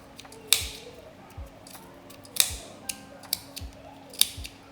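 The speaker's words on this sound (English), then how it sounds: "use your scissors, insert it into this open space, and then cut off the yarn" Scissors snipping through wrapped yarn on a generic pompom maker: several sharp, close metallic snips spaced irregularly, with faint quiet sounds between them.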